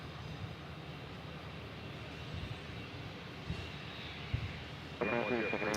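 A Cessna 560 XL business jet departs Dallas Love Field, heard as a faint, distant, steady engine rush with a brief electronic tone near the end.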